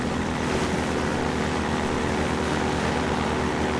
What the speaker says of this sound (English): And my old friend the helicopter has returned.